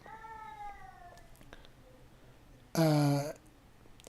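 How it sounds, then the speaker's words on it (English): A cat meows twice: a drawn-out, falling meow first, then a short, louder, sharper one near the end, close by over quiet background. "That is my cat."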